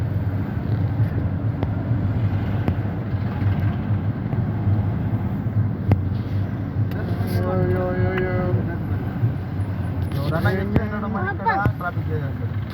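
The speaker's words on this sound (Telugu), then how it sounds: "ట్రాఫిక్" Steady road traffic rumbles on a pilgrimage route to Sabarimala, with engine drone throughout and a couple of horn blasts near 8 and 11 seconds, loud and close.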